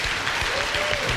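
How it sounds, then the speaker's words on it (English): Steady, loud audience applause with cheering at a conference, a continuous wash of clapping throughout. "Give Corey Goode one last amazing round of applause."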